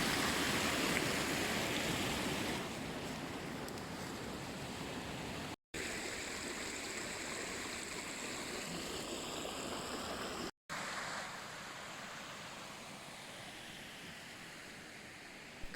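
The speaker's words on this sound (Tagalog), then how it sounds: "Ito naman ang pangalawang maliit na waterfalls and streams." A small waterfall and flowing stream in the woods give a continuous broadband rush of water, steady and fairly soft, with the churn easing slightly partway through.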